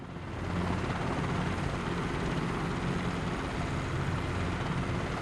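A helicopter in a flight simulator, flying a traffic pattern at low altitude, gives a steady loud rotor and engine drone that swells in over the first half second and then holds even throughout.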